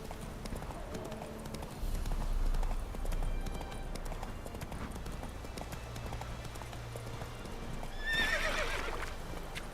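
Hooves of Roach, a horse in The Witcher 3: Wild Hunt, clip-clop in a steady gallop throughout, and near the end a loud whinny cuts through, all over low game ambience.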